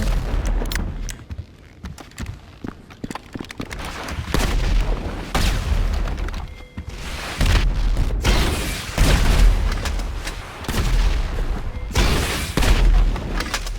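Gunfire in GTA 5 Online team battle: repeated loud bursts of shots and booms in rapid clusters across the stretch, close and punchy, with brief gaps between volleys.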